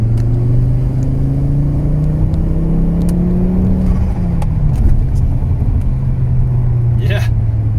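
An XR5X4 Turbo car accelerating hard in third gear, its engine note climbing steadily and loudly from inside the cabin, then dropping at a gear change and pulling again, with a few light clicks and rattles over it.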